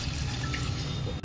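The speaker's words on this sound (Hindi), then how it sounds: "मैं इसके अंदर एक कटोरी और पानी डालूंगी।" Water poured into a jar to rinse out leftover spices while cooking a soyabean chaap curry, a short, close, steady splashing fill with a faint dripping quality, no voices.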